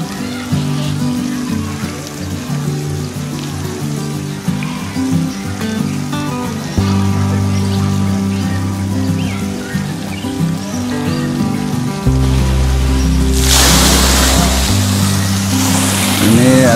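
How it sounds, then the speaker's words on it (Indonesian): Water gushes and splashes from a tipped-over bucket beside a clear natural fish pond at Cibulan, Kuningan, a steady broadband wash that swells loudly near the end over a bed of constant background noise. "Ini ada ember tumpah"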